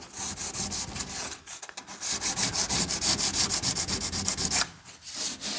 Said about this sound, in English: wet sanding it.